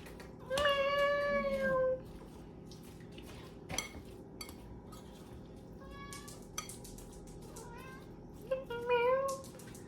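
A house cat meows repeatedly in a kitchen while crab is being prepared, several drawn-out, rising cries spaced apart, with faint clinks of dishes and cutlery between them.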